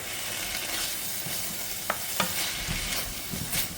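Jerk paste mixture frying and being stirred in a pan for Jamaican jerk chicken patty filling, a constant close sizzle with occasional scraping stirs and clicks, no talking.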